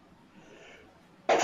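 Quiet murmur gives way to a sudden loud, sharp burst at the end, like a sneeze close to the microphone.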